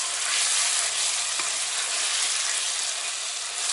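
A sweet mixture with cherry and pomegranate jam is stirred in a pan on the heat, giving a steady, soft sizzle with faint scraping, heard close and alone.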